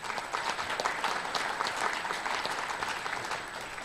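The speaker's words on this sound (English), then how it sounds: "By the way, round of applause." Audience at a gun rights policy conference claps in steady, fairly faint applause that continues evenly throughout, with no talk over it.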